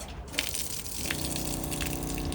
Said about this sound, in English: it will drain out all of your fresh water nice and quickly